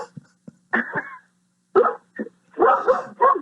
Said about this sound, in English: Sorry, there's my dog. He's agreeing with us.